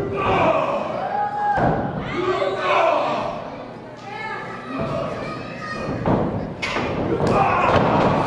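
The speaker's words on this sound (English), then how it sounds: "Huge elbow by Big Jim, taking Chris Payne right off his feet" During a Dynamic Championship Wrestling match, Big Jim lands an elbow that knocks Chris Payne onto the ring mat. Several heavy thuds and slams ring out while a crowd, children among them, shouts and cheers.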